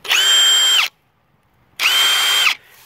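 Ridgid Octane 1/2-inch cordless impact wrench spinning freely in two loud, steady whirring bursts of under a second each, separated by a brief silence.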